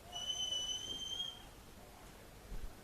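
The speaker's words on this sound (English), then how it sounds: "As the whistles and the crowd start from Manly fans." Whistles from Manly United fans in the crowd at a semi-professional football match, a thin, sustained tone lasting about a second and a half over faint crowd noise, then fading away.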